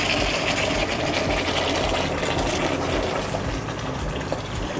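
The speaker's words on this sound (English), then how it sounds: "I'm going to turn off my kettle and dump the syrup into my pan that I'm going to vacuum cool into." Hot maple syrup, boiled to 236 degrees, pours from a kettle into a pan for vacuum cooling, giving a steady loud gushing and hissing with a mechanical hum underneath, continuous throughout without talk.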